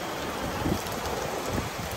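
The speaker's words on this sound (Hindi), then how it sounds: "बारिश तो काफी तेज हो गई है गाइज" Heavy rain pouring down steadily, a dense, even hiss of drops close by with no voices.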